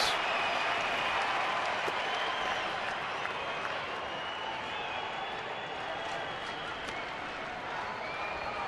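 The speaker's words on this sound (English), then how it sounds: "now the crowd is up and on its feet at Chase Field" Large baseball crowd at Chase Field in Phoenix, Arizona, at a Diamondbacks game against the Milwaukee Brewers, standing and cheering in a steady, dense roar with applause that fills the stadium and holds evenly throughout.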